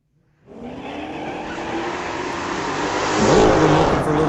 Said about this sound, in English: we got a 67 Chevelle against Tony Reed out of Mission with a 67 Mustang